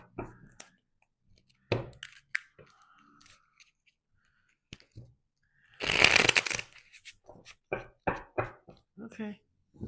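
Tarot cards are shuffled in a quick riffling burst lasting under a second, set among soft handling clicks and taps, with a voice speaking before and after.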